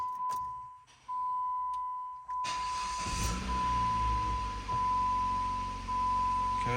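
A Jeep with a rebuilt T355 manual transmission, fitted with new input and countershaft bearings, cranks and starts with the clutch pedal held in, then idles steadily. A constant thin beep tone runs through the whole clip.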